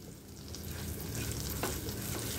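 Hot oil sizzling steadily in a tempering pan with spices, hing and achari masala for a dal tadka, a continuous close frying hiss with faint stirring.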